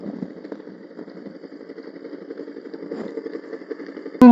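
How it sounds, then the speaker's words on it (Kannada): Motorcycle engine idling close by with a low, steady, slightly rattling putter, ending in a sudden loud burst. "ಒಂದು ಸೆಕೆಂಡ್ ರೀ, ಬೈಕ್ ಹಚ್ತೀನಿ."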